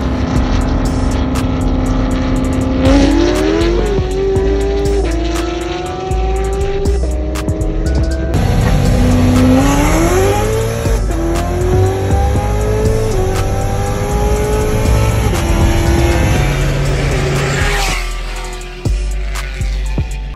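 A Procharged C7 Corvette built to over 900 horsepower revs loudly and continuously, its engine note rising and falling through repeated throttle blips, with a steady supercharger whine on top and no talking.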